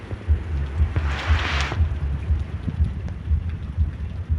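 Steady rain pours during a storm in the countryside, with a dense, continuous wash of noise, a low rumble underneath and a brief surge of louder hiss early on.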